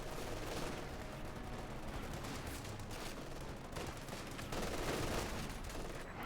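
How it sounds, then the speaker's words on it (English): Heavy .50 cal machine gun fire sweeps an area in a Company of Heroes 2 World War II battle, a dense, continuous roar of gunfire and explosions that swells louder near the end, with no talk. "the 50 cal just sweeps the entire area with heavy firepower there"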